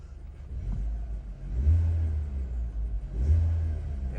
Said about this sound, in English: So I'm gonna step on the gas, see if it responds right on time.